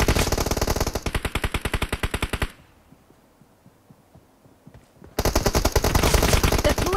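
Rapid bursts of automatic gunfire in the BGMI mobile battle game, a dense loud volley, a quiet pause of a few seconds, then another sustained volley.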